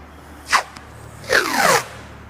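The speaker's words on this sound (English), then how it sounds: "we will go ahead and run our tape line so that we can get the bumper cut right along the top edge" Masking tape is pulled off the roll and laid along the top edge of a second-generation Nissan Frontier front bumper, giving a short rasping rip and then a longer, close streaky pull.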